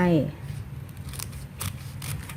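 Scissors snip through a rose apple leaf in a few quick, crisp cuts following a short burst of speech at the start.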